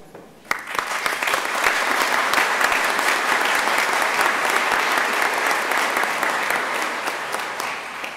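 An audience at a Naval Postgraduate School graduation ceremony applauds in welcome of General Paxton, Assistant Commandant of the Marine Corps: sustained, full-room clapping that starts abruptly and holds steady for several seconds, loud and dense.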